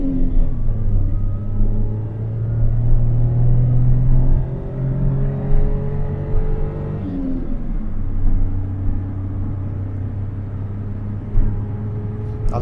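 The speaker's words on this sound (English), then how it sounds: "I love the noise this engine makes, especially when you lift off for the down changes." A Daihatsu car engine with a smoking fault rumbles and revs through gear changes, its pitch rising and dropping as the throttle is lifted for downshifts, heard steadily from inside the car.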